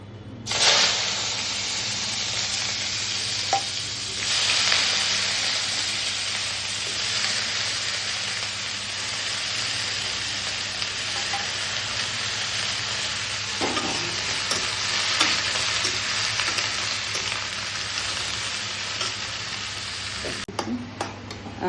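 Pieces of water lily (shapla) fry in a pan with a loud, continuous sizzle that runs for the whole stretch, broken now and then by a soft click or scrape.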